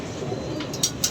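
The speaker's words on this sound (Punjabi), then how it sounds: "ਇਹ ਇੰਡੀਅਨ ਕਬੂਤਰ ਹੈ" An Indian pigeon gives a short, soft coo at close range over a quiet, hissy background, with a couple of brief sharp sounds near the end.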